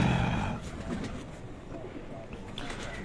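Pigeons kept on a rooftop coo in low, soft, repeated murmurs, loudest at the start, with someone talking over them.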